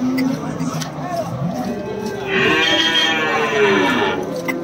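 Cattle low repeatedly at a busy cow market in Melapalayam, Tamil Nadu, a loud, drawn-out moo rising near the mic over a constant murmur of people talking and bargaining nearby.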